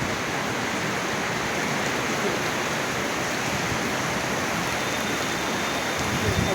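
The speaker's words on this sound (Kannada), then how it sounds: "ದೀಪಾವಳಿಗೆ ಜೋರು ಮಳೆ ಬಂತು ನೋಡಿ ಮುಂದಕ್ಕೆ ನೋಡಿ ಜೋರು ಮಳೆ ಇದೆ ಮಳೆ ನೋಡಿ ಗಾಳಿ ಮಳೆ" Heavy rain driven by wind during Diwali, a dense unbroken roar of downpour that stays close and loud throughout with no pauses and no voices.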